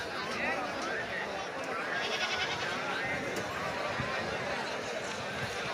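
Sheep bleat amid the dense crowd noise of the Friday sheep market in Banaganapalle, with voices and general bustle filling the background throughout.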